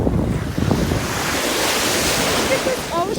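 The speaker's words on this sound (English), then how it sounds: "Look at this ocean. I love the ocean, guys." Ocean waves wash and roll at a beach, loud and close, with heavy wind buffeting the microphone throughout.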